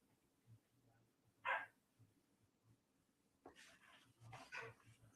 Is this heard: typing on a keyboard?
no